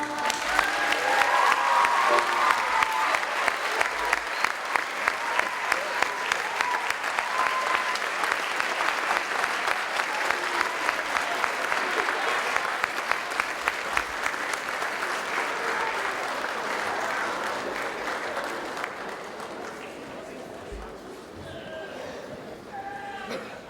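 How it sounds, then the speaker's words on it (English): Audience applause for the Long Branch Middle School Choir at a 9/11 ceremony, a long, loud wash of many hands clapping with a distinct rhythmic pulse, fading gradually toward the end as scattered voices remain. "Let's give another round of applause to the Long Branch Middle School Choir"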